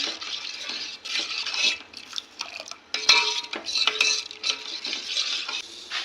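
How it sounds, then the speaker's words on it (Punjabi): A spoon stirs besan (gram flour) into milk in a pot, making continuous close scraping and swishing against the metal with busy uneven strokes and brief clinks throughout. "ਚੰਗੀ ਤਰ੍ਹਾਂ ਆਪਾਂ ਹਿਲਾਵਾਂਗੇ ਤਾਂ ਕਿ ਜੱਦਾ ਬੇਸਨ ਦੇ ਵਿੱਚ ਗੱਠਾ ਨਾ ਬਣਨ"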